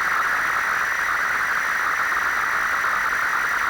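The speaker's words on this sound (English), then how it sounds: "You can also hear some noise in the stepper motors." Steady electronic whine from an idle 3D printer extruder stepper motor, picked up through a magnetic pickup coil, holding constant and fairly loud for the whole stretch with no other sounds.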